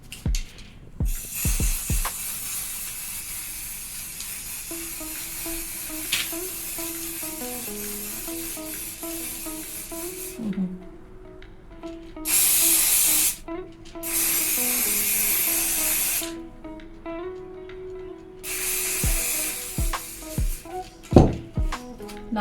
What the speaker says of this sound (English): we are going in with golden spray paint and just cover the edges